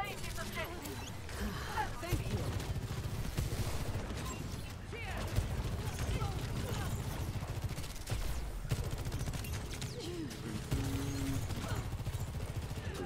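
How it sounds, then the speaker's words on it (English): Sojourn firing in Overwatch 2, rapid repeated gunshots spamming in bursts throughout a busy match, mixed with game effects and a voice talking over it. "I'm just kind of spamming shots in that general direction, hoping I hit something."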